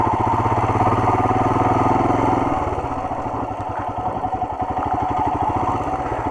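A Royal Enfield Himalayan motorcycle engine runs steadily in second gear on a rough off-road trail, its loud, continuous thumping pulse close by, with a deeper drone early on that settles into a rapid, even beat.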